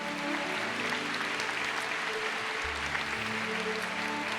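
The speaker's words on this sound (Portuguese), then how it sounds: "a igreja aplauda ao Senhor" A church congregation applauds during a worship service, a steady wash of clapping under sustained keyboard tones that continue throughout.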